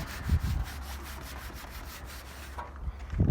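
Polish rubbed by hand over old, rusty car paint gives soft, gritty back-and-forth scrubbing strokes in a steady rhythm, fairly quiet and close, with a couple of faint bumps near the end.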